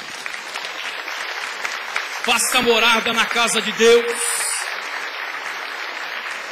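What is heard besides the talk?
congregation applauding in church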